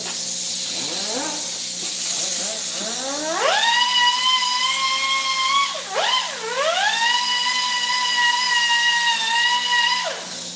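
A grinder cleaning up a freshly cut metal piece before welding on a supercar build spins up with a rising whine, holds a steady high-pitched tone, briefly dips under load and recovers, then winds down.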